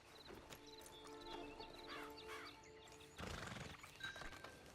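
Video game audio: hooves clip-clop along in a steady gait while a horse gives a rising whinny, followed by louder thuds and shuffling near the end.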